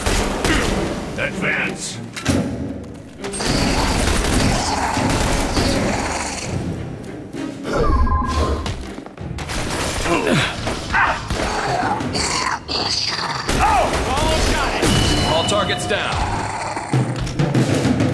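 Rapid gunfire rattles through a firefight in The Bureau: XCOM Declassified, with bursts and thuds layered under shouted voices and battle noise, loud and dense throughout.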